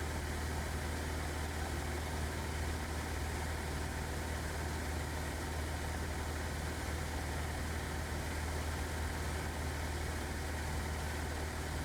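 Small airplane engine in flight near a ridge line, a steady droning hum with constant wind roar heard from inside the cockpit, no clear change in throttle and no talk.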